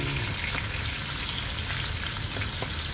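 Pancit canton noodles sizzle and crackle steadily in a hot pan as they are stirred, a close, continuous frying hiss with faint scraping, no one speaking.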